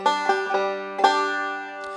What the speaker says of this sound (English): this song starts off with a fiddle tune kickoff called Potatoes